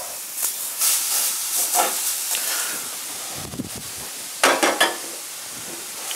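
Eggplant slices sizzle and hiss in a hot frying pan, a steady frying crackle with a few louder bursts of spitting as the pieces are laid in.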